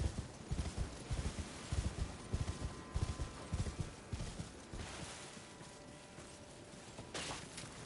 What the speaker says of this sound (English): I hear footsteps, but it could be anything. They sound kind of heavy, though.